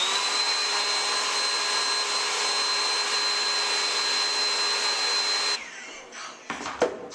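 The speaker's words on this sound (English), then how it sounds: "What you're gonna do is you're gonna take the blow dryer" Blow dryer running steadily on glued beads stacked on DIY shoes, a loud continuous whir with a high whine that cuts off, followed by a few handling knocks and clatters.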